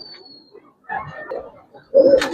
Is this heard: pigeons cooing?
yes